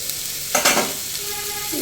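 Potatoes, spring onions, carrots and capsicum fry in a pan with a steady broadband sizzle, plus a brief louder burst of stirring or spattering near the middle.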